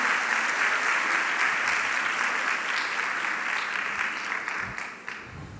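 Congregation at a women's church service applauding in praise, a dense, steady wash of many hands clapping nearby that thins slightly toward the end.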